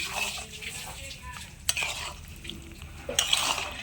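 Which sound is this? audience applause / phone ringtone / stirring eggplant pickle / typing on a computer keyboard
stirring eggplant pickle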